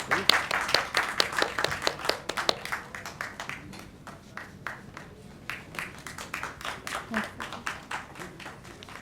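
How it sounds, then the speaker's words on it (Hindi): An audience at a book launch claps in welcome for the chief guest, with a burst of brisk applause that thins into scattered, uneven claps and faint murmuring. "तालियों से स्वागत करेंगे"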